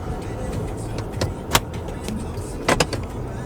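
A vehicle comes along a long gravel road, heard as a steady rolling rumble with scattered sharp crunches and clicks from the loose surface, fairly close and without talk.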